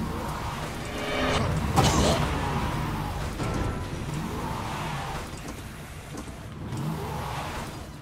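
A car engine drives and revs steadily throughout a Resident Evil 7 game scene, with a louder surge early on and some clunks and bumps over the continuous motor drone.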